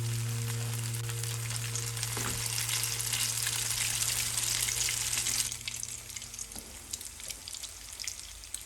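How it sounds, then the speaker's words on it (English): Potatoes sizzle and crackle in a hot frying pan, a steady close hiss with scattered pops, accompanied by a low constant hum that cuts out partway through, leaving the softer sizzle alone. "Now just let them sizzle until both sides are beautifully golden."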